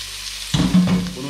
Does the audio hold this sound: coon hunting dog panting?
no